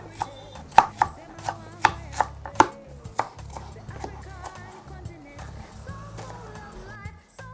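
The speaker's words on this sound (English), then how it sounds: "Next is our onions. I'm going to chop them." Knife chopping onions for a salad on a cutting board: a run of sharp, close chops, about seven crisp strikes early on, then softer cutting as background music continues.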